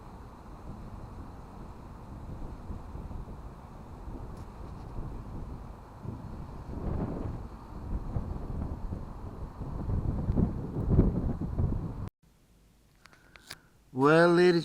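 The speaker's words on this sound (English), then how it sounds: "It's getting really windy out there now" Strong wind buffets the microphone in a steady roar with louder gusts on the Tyne and Wear coast, then drops out briefly before a loud burst returns at the end.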